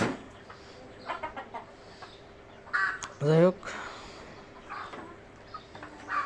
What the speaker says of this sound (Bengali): আজকে আমার ফার্মে দেশি মুরগি একটি মুরগি ডিম দিছে